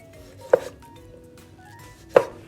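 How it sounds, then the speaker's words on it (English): A knife cuts tomatoes into little pieces for canning, striking a cutting board in two sharp, separate chops over quiet kitchen background. "So I'm gonna cut them into little pieces."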